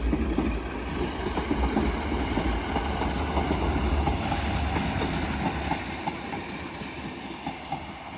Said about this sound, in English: Arriving in now is another Northern 150 from Sheffield to Addick.